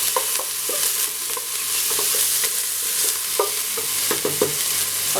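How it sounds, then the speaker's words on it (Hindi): Garlic and ginger paste frying and being stirred in hot oil with mutton for a Peshawari namkeen gosht, a steady close sizzle broken by repeated scraping and clinking stir strokes, no talk. "और सबसे पहले हम इसमें डालेंगे लहसुन अदरक का पेस्ट"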